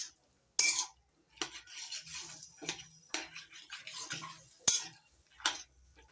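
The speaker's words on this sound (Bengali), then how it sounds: "এবার কুমড়ো শাকটা ফোড়ন দিয়ে নিচ্ছি" Pumpkin greens are tempered and stirred in a wok, with scattered scraping and clinking of a utensil against the pan in irregular strokes, close and fairly quiet, with soft gaps between.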